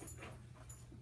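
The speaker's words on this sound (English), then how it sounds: "pardon the dog" A dog that has just come in from outdoors pants quietly nearby, with a soft breathy whimper over a low background hum and no talking.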